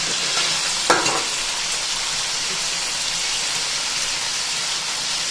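Onions and tomatoes fry in a pan for a fish curry with coriander, producing a loud continuous sizzle like heavy rain and a short clatter of a utensil early on, with no talking.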